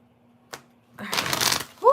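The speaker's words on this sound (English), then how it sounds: "Hold on, I'm trying to shuffle." Tarot cards being shuffled by hand, a brief tap followed by a quick riffling flutter of cards, fairly close and quiet, with a faint voice starting at the end.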